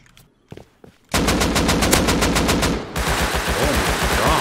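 In the game Rust, the player's gun fires a few quiet single shots, then opens into loud, rapid automatic fire. After a brief break a dense, continuous burst of shots follows, close and harsh.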